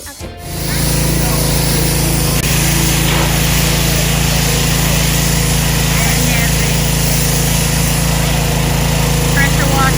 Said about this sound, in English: Pressure washer.